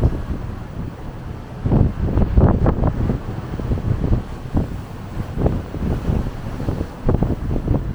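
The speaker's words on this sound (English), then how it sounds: "Take a look at these waves." Ocean waves surge and wash repeatedly at the back of a ship in Antarctica, with strong wind buffeting the microphone in irregular gusts.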